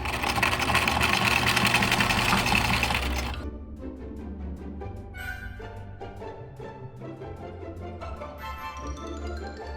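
A sewing machine stitches in the ditch on apron fabric, a loud steady whirring run for the first three seconds, then quieter mechanical clicks and faint tones continue alone.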